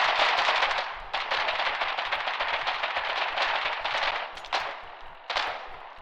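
Mortar and artillery fire in the war video game Foxhole during a siege, loud rapid bursts of booming shots that come in overlapping volleys with brief gaps and no speech.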